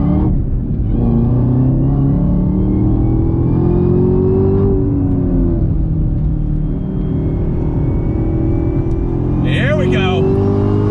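Chevrolet Camaro ZL1 1LE with a Tremec 6-speed manual accelerating hard, a loud continuous engine roar that rises in pitch through the rev range, with a brief squeal or chirp near the end.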